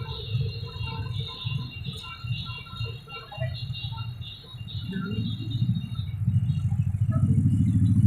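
Car engine and exhaust rumbling through Kaybiang tunnel, a low uneven drone that swells louder toward the end, with people talking over it.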